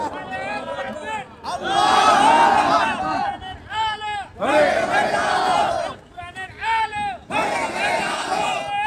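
At an Islamic sermon gathering, a large crowd shouts takbir in loud unison, in three surging waves separated by brief pauses, with a single voice calling between them.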